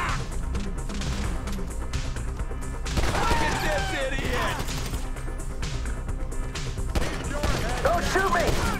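Dense, continuous gunfire in Grand Theft Auto V rattles on without pause, with sharp cracks and crashes layered over a thick, busy game soundscape.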